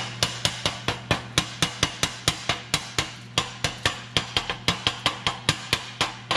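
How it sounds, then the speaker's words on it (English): A hammer chips slag off a 7018 stick weld made with a Harbor Freight Vulcan Commander 225 AC/DC arc welder: steady, sharp metallic taps at a quick, fairly even rhythm over a faint background hum. "If you have to beat the heck out of your weld to get the slag off, at least with 7018, you probably did something wrong"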